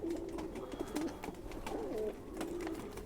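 A khaki pigeon coos softly and repeatedly at close range, its low throaty calls coming in short rolling phrases over faint rustling and handling noise.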